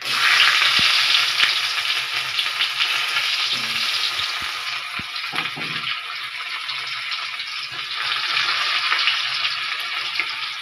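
Chopped garlic sizzles steadily and loudly in hot oil with a dried red chili and nigella seeds, with a few soft stirring knocks and no voices.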